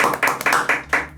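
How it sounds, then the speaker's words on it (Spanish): A small group claps for a guest in a studio show: several short bursts of hand clapping, close and fairly loud, with brief pauses between them and no talking. "Le pido a todo el equipo que un aplauso para esta gran invitada del día de hoy."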